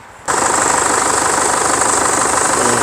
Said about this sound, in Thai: เดี๋ยวสตาร์ทฟังเสียงเครื่องยนต์กันนะครับผม